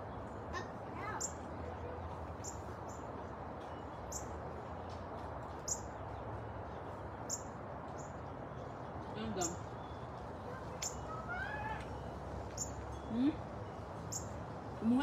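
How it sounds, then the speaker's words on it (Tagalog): Small birds chirp in short repeated calls over a steady outdoor background in a rural field during a picnic, with a few brighter rising tweets near the end. "May ibon din dito ah"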